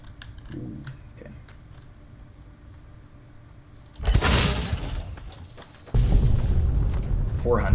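Two loud booming explosions in the video game Fallout: New Vegas, each a sudden broad roar that lingers, the first after several seconds of low ambient game noise.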